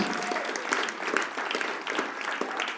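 A church congregation bursts into loud, sustained clapping that carries on evenly throughout, with no talking over it.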